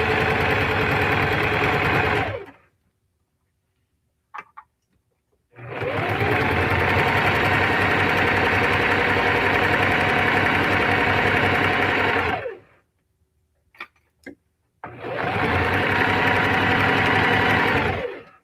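Close and loud, a sewing machine stitches a necktie in three long runs of rapid, even buzzing, separated by short quiet pauses with a few small clicks.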